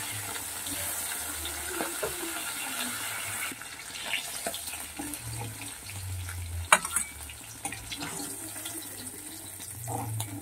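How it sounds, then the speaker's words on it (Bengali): Chanda fish frying in hot oil: a steady, fairly loud hissing sizzle with faint bubbling crackle, running the whole time with a few small knocks and no voices. "বাকি মাছগুলোকে একইভাবে আমি ভেজে নেব।"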